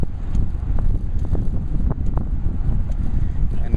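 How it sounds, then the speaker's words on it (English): Steady roaring wind buffets the microphone of a road bike ridden into a 20 mph headwind in San Francisco, loud, continuous and close, drowning out everything else. "The winds are not too bad, about 20 miles an hour. The headwind that I'm riding into."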